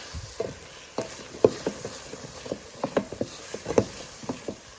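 Roselle leaves stir-fry in a hot pan with a light, crackling sizzle, and a utensil scrapes and taps the pan in uneven bursts. Close and fairly quiet, with no voices.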